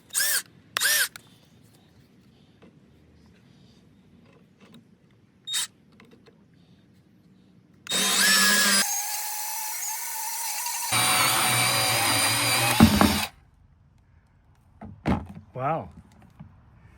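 A power tool cuts down small mini ratchets outdoors in two loud, sustained bursts. Short clicks and handling noises come before and after them, along with brief moments of quiet.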